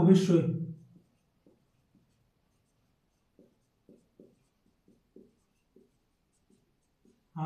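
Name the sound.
writing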